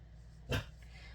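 A single short dog bark, a female dog sounding close, rising out of a low steady indoor hum.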